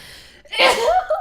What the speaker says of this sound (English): I am not a dainty sneezer, obviously.